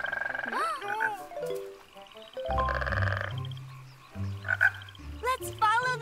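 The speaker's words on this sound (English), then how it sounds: "Let's follow the frog and see if he eats any mosquitoes." A cartoon frog on a lily pad croaks in a series of short, bouncy calls over music and sound effects, loud and close in the mix.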